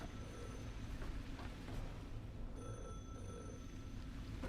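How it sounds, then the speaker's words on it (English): A telephone bell rings faintly in the distance inside a video game, repeated tonal trills sounding over a constant low rumbling background. "Why can I hear a phone?"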